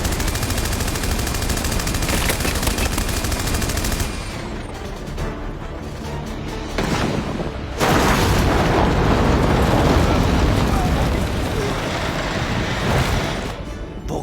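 Loud gunfire and heavy bursts, sustained and dense over a roaring backdrop, from an animated action battle scene; continuous volleys with a brief lull near the middle, no voices.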